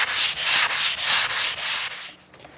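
Rhythmic sanding strokes rasp back and forth over a wooden boat surface, loud and close, in about seven even passes before stopping.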